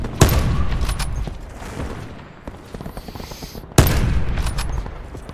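Gunfire rattles through a Call of Duty Blackout battle royale match. A loud close shot opens it and another cracks near the end, with scattered rapid fire and softer distant shots in between.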